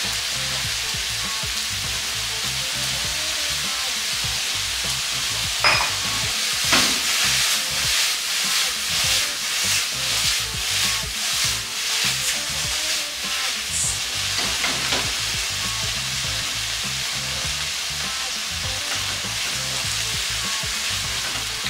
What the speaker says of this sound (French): Juste le temps que les champignons ils cuisent